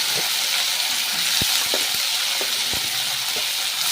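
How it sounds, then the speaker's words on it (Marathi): Constant hissing sizzle of cluster beans frying in tempering oil, with a few light clicks and taps from stirring. "आता गवारीच्या शेंगा त्यामध्ये फोडणीमध्ये टाकायच्या आहेत"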